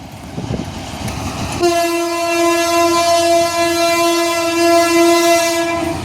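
A train passes close by with a loud, sustained horn blast lasting several seconds, preceded by rumbling wheel noise and heard above a town bazaar from a rooftop, with no speech.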